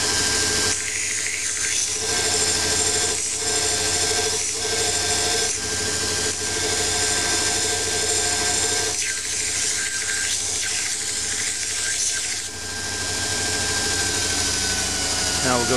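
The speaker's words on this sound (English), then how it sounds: "I use a belt sander to remove the material." A belt sander grinds material off metal connecting rods during balancing, a loud continuous whirring abrasion with a steady hum and slight pulses as the part is pressed and shifted against the belt.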